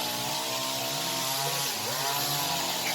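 A chainsaw roars steadily and loudly throughout while cutting wood, its engine pitch wavering slightly as it bites in.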